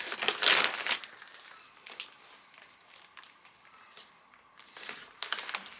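Plastic delivery bags holding jersey fabric crinkle and rustle in short bursts up close as they are opened with scissors, quiet between the handling sounds, with a louder crackle at the start and again near the end.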